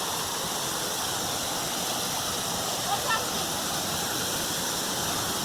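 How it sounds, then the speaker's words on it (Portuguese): A waterfall at Sapezal roars as a steady, dense broadband rush, loud and unbroken throughout. "Essa cachoeira."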